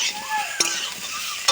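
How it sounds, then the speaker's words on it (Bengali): Turmeric being stirred into khichuri frying in a pot, a close steady sizzle with a spoon scraping along the bottom and a couple of sharp clinks against the metal. "হলুদ দিয়ে দিলাম। দিয়ে নেড়ে নেওয়া হচ্ছে। ভালো করে নাড়তে হবে।"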